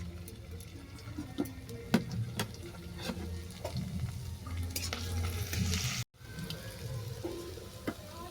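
Grated garlic and ginger frying in mustard oil in a wok, a close sizzle with frequent scraping stirs and light utensil clicks against the pan, brief dropout near the end, no speech.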